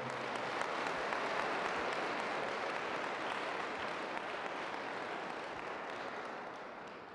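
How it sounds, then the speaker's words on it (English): Applause for students at a school STEM Week kick-off event with the Mayor of Boston present, a dense, even wash of clapping from a crowd sustained throughout and tapering slightly at the end. "How about a nice round of applause again?"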